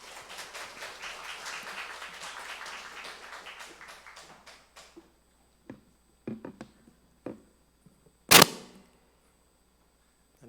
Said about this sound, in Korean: 우리 따뜻한 마음을 담아 박수로 우리 환영하겠습니다.